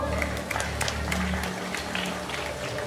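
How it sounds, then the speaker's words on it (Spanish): Brief crowd applause at a robot combat event in Huánuco, Peru, as a competing robot is introduced, steady clapping under a loud hall ambience with some voices. "Aplausos, por favor."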